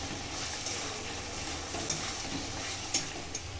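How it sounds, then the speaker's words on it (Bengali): Boiled mutton pieces being stir-fried with spices in oil, a steady close sizzle with occasional scraping clicks of a spatula against the pan, no voices. "এবার খাসির মাংসটি খুব ভালো করে কষিয়ে নেব"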